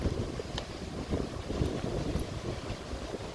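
Wind blows across Jacksonville Beach in Florida, a rough, low rumbling gust buffeting the microphone continuously with faint surf beneath, no speech.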